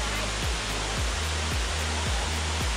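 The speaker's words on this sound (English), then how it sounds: "So it's a 22-meter high waterfall, and it's here located in Hamilton" A 22-meter waterfall in Hamilton, Ontario pours in a steady, dense roar of falling water, constant and fairly close, with a low rhythmic thumping beneath it.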